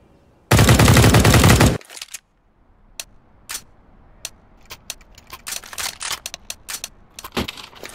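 Gunfire in the video game CSGO: a single loud, sustained automatic burst lasting about a second, followed by quieter clicks, ticks and scattered game noise.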